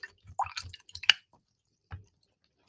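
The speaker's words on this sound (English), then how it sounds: "And I'm going to now wash my brush." An acrylic paint brush is swished and dabbed in a water cup, making a few short wet squishes and drips close by, then a brief quiet gap and one last small splash.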